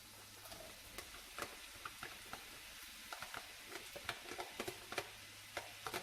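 Green onions, shallots and minced garlic stirred in a sizzling pan, a utensil scraping and tapping in irregular sharp clicks over a faint steady frying hiss, close but quiet.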